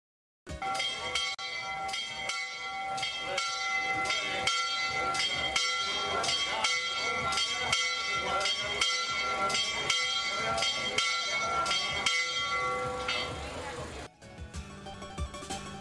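A church bell rings repeatedly from the bell gable of a 17th-century church in Mijas, Spain, loud, steady strikes with long ringing overtones for about thirteen seconds before stopping, followed by faint background noise.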